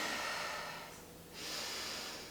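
A person breathes audibly during a stretching exercise, with a steady airy breath, a brief pause, then another soft breath, close and fairly quiet, with no talk.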